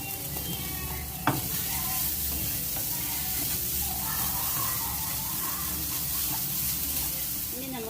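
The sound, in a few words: stirring spiced masala frying in pan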